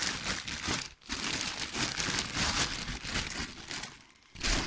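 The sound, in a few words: plastic shopping bags crinkling as they are emptied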